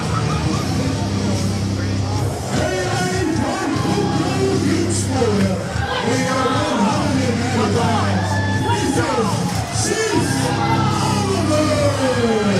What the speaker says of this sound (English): This crowd already going nuts